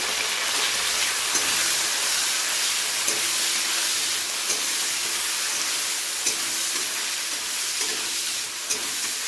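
Green chillies, ginger and tomato fry in a pan with a continuous, close sizzling hiss, broken by a few faint clicks and stirring taps throughout.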